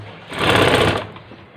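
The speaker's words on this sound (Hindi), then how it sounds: "ये चारों तरफ आधा इंच अंदर की तरफ मोड़ेंगे और किनारे का सिलाई लगा देंगे।" A sewing machine stitches the folded edge of curtain cloth in one short, close, steady whirring run that swells and fades within about a second.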